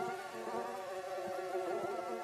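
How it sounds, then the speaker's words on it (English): A swarm of mosquitoes hums outdoors in a steady, thin, high whine that holds at a constant moderate level and is heard alone. "There's an army of mosquitoes out there."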